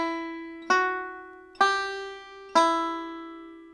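Three plucked banjo notes ring out one after another at an even, moderate pace, each with a sharp twangy attack and slow decay, playing a lick from the bluegrass tune Blackberry Blossom, close and alone.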